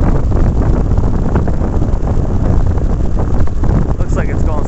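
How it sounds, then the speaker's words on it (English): Strong wind roars and buffets the microphone continuously near a spinning wind turbine, loud and close, with gusty rumbling throughout. "It's very windy today."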